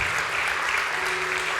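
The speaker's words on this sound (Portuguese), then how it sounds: "Pode aplaudir a Jesus, pode aplaudir a Jesus." A church congregation applauds during a sermon, a brief, steady wash of many hands clapping with a low sustained tone beneath it.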